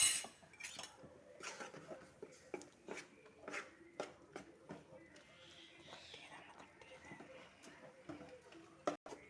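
A spoon repeatedly scrapes and clinks against a pot as rice flour is stirred into hot water on lowered heat, in an uneven rhythm, with a faint murmuring voice.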